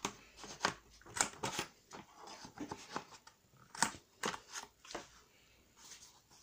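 A corner punch rounding the corners of cut paper for a mini album, giving a series of sharp, close clicks and snips in irregular bursts over quiet background.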